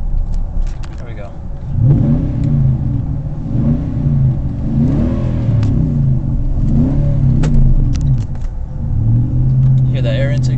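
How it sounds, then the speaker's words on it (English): Inside the cabin of a Nissan Titan pickup fitted with a Magnaflow exhaust, the engine revs in repeated surges, a deep rumbling growl that swells and eases several times, while a person talks over it. "Hear that air intake go, taking all that air."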